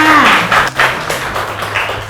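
A class of schoolchildren claps together for a classmate, a dense, steady patter of many small hands filling the room for a couple of seconds, with a teacher's voice speaking over it.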